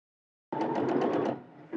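A sewing machine runs a zigzag stitch along a pressed seam allowance on women's trousers, a short close burst of rapid pulsing stitching lasting about a second before trailing off.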